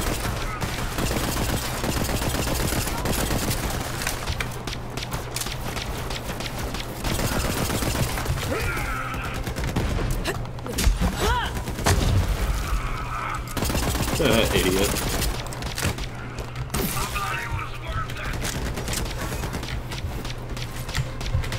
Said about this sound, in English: I did hear the gunshots.